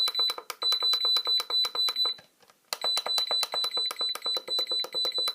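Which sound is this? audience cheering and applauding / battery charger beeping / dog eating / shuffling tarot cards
battery charger beeping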